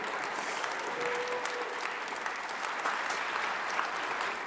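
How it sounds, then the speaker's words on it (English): An audience applauds steadily after a youth orchestra concert, a dense even wash of clapping filling a hall, heard from a distance and moderately quiet throughout. "As the last echoes of the concert and applause were still ringing, Grant Llewellyn and the Young All-Stars wer"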